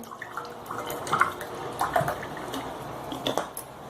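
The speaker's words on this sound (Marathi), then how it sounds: "सरबत तयार करताना ग्लासमध्ये थंड पाणी घालायचं" Cold water trickles and splashes into a glass, a light pouring sound with faint drips, fairly quiet and close, no voices.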